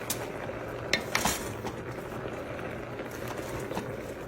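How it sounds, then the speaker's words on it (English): A spoon stirs sausage, cabbage and potatoes in a pot, with a few clinks against the metal at the start, then a steady simmering hiss and gentle scraping, close and moderately loud. "Okay, we want to stir it a little bit. It's hard to really stir"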